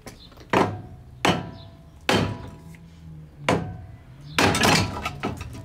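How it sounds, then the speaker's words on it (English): A hammer knocks out an old upper control arm on a car suspension, being replaced with a new Skunk 2 arm: five loud, sharp metallic blows at uneven intervals, close by, ringing briefly between strikes. "we're just gonna knock this out the hard way."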